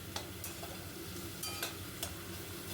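Boiled potato pieces, tomato and turmeric are stir-fried in a pan, a faint soft sizzle with a few light spatula taps and scrapes scattered over a quiet background hum.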